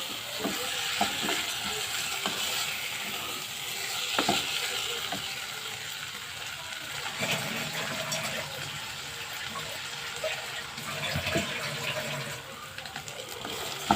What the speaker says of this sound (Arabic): نقلب بقى كله كده في بعضه